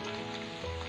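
Cumin and chili powder fry in a pan with a soft, steady sizzle, close by and brief, with no talking.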